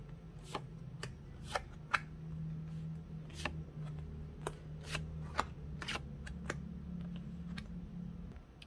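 Cards handled for a tarot-style reading, with soft continuous shuffling and sliding broken by a dozen or so crisp snaps and taps as cards are flipped and laid down, close and quiet, with no talking.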